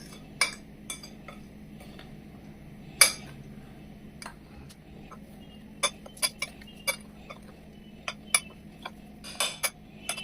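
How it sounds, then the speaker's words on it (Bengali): Dry cake ingredients with baking powder, baking soda and salt being mixed in a bowl, a quiet background broken by scattered sharp clinks and ticks of a utensil against the bowl, irregular and close. "এই যে এই কটা শুকনো উপকরণ আমি একটু মিশিয়ে নিলাম"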